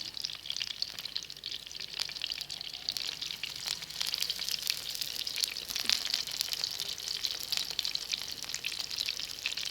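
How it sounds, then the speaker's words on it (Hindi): Kebabs shallow frying over medium heat, a soft continuous crackling sizzle with scattered pops, fairly quiet and steady with nothing else heard. "इनको दरमियानी आंच में फ्राई करते रहेंगे।"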